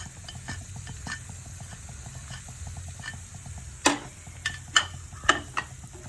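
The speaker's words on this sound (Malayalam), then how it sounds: "അത് ഇനി അതിലേക്ക് കുറച്ച് ചില്ലി ഫ്ലെക്സ് ഇട്ട് കൊടുക്കാം" A chilli flakes mixture for fried sardines stirred and fried in a pan, with a low steady sizzle and a few sharp spoon clicks on the pan toward the end, close and without voices.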